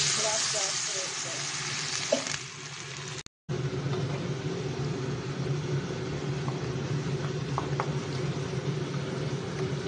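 Tempering for dhokla sizzles steadily in a pan, with a brief cut partway through after which the frying continues at a lower, even hiss with a few faint clinks.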